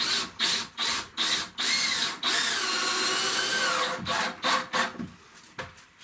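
A power drill drives wood screws into timber while a tiny house is being built. Close, loud whirring comes in repeated short bursts and one longer sustained run, and no voices are heard.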